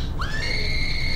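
Short high-pitched character scream from the Lego Jurassic World video game, a single sustained shrill cry starting abruptly and holding over a low game background.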